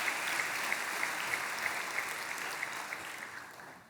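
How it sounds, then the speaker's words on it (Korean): A congregation at an early-morning church prayer service applauds, a dense, even wash of clapping that holds steady throughout and fades slightly at the end, with no talking. "큰 박수로 귀한 캠퍼스 귀한 성도님들께"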